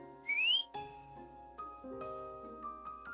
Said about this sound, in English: Leona blows the whistle